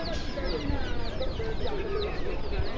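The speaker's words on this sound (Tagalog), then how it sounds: "Ayan, mga sisiw. Sisiw. Saka pugo." Chicks and quail at an animal market in Fossano, Italy, chirping and clucking busily and close by amid market bustle, with people talking.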